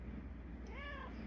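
A pet tuxedo cat meows once, a clear rising-and-falling call of moderate loudness over a steady low indoor hum, with no talking.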